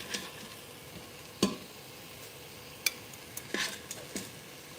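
Stew meat searing in an electric pressure cooker pot on the high saute setting gives a soft steady sizzle, broken by a few sharp clicks and scrapes of utensils against the pot, with no voices.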